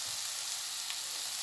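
Boiled vegetables hitting a hot pan, a steady soft hissing sizzle held throughout a short moment, faint and without speech.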